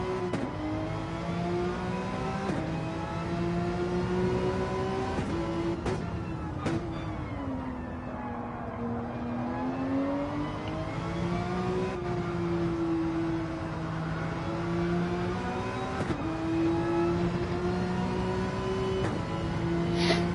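Porsche race car in the Gran Turismo racing game, its engine holding a steady loud drone with shifting pitch as it accelerates and eases through a tricky section, a few brief gear-change breaks, continuous and alone.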